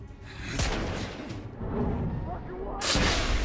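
Gunfire in the video game The Order: 1886, two sharp booming shots about two seconds apart, each with a short reverberant tail over a low game ambience.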